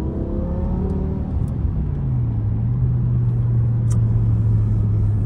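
A 2006 BMW M5 E60 pulls hard from inside the cabin, its engine note rising and then holding as a loud, steady drone over road rumble, with no talk.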